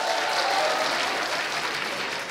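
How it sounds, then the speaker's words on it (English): A stand-up comedy crowd gives a round of applause, a steady dense wash of clapping from a full room, even in level throughout. "Give him a round of applause"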